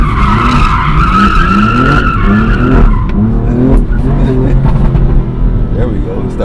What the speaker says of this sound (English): I got to work on those donuts, man. I want to be able to drift in the circle.